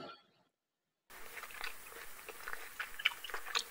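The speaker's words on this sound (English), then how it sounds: "Fish Tandoori eating Mukbang ASMR curry Indian food compilation videos." Close-up chewing and crunchy biting while fish tandoori with curry is eaten, wet and crisp mouth sounds in irregular bites after a short silence, with no voices heard.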